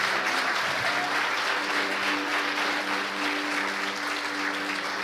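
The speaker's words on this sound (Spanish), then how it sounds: "Denle un fuerte aplauso a Jesús por eso." A congregation at a Spanish-language church service gives sustained, loud applause that stays steady for several seconds, with a faint low tonal hum beneath the clapping.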